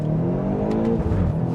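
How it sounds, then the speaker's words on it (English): BMW X6M with an 8-speed ZF automatic under full-throttle acceleration, a steady, loud engine roar with a rising harmonic drone and brief higher whooshes near the middle, no voices. "we won't hold the brake. We'll just fully accelerate."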